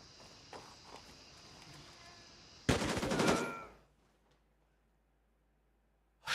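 Burst of rapid automatic gunfire in the shooter game Gray Zone Warfare, a loud dense rattle lasting about a second after quieter footstep-like movement, then fading to near silence before another sharp hit at the end.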